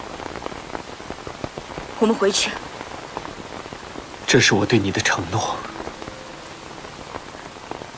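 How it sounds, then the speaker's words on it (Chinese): Heavy rain pours steadily throughout as a dense, constant hiss, with people speaking over it in two short stretches. "现在这么大雨，你不能淋雨。"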